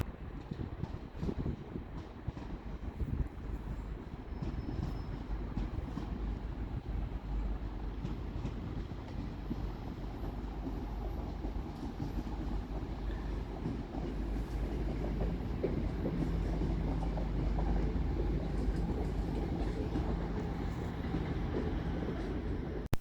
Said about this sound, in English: Arriving to terminate under the head code 5H07 from Ardwick TMD is 323234.